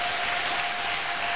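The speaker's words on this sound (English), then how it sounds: "Please clap for Jesus." A congregation claps steadily and densely at a church service during a sermon on offerings, a continuous wash of hands with no talking.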